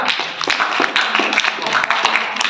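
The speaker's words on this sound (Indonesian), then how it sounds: "Tepuk tangan dulu untuk kawan kita." Classroom students clapping for a classmate: a burst of many quick, uneven handclaps, close and fairly loud, lasting a couple of seconds with no talk.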